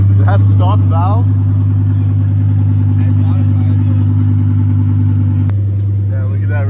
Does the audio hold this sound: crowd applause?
no